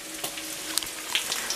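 Steady sizzling of food frying in a pan, a soft crackling hiss with a few sharper pops scattered throughout.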